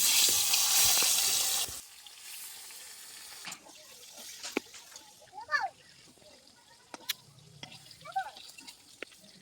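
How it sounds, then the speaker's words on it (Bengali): Eggplant slices hit hot oil with a loud hiss that quickly settles into a quieter sizzle, broken by scattered clicks and brief vocal sounds. "এবারে আমি বেগুনগুলো ভেজে নেব।"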